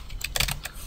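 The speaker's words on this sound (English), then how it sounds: "and then I will type" Fingers tap quickly on a computer keyboard, a short run of crisp, close clicks with a small cluster of keystrokes in the middle.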